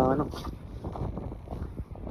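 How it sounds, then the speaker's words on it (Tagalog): A strong wind roars and buffets the microphone in a short burst, with a brief tonal squeal at the start, outdoors in icy winter conditions in Chilliwack, British Columbia. "Lakas ng hangin."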